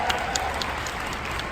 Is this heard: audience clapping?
yes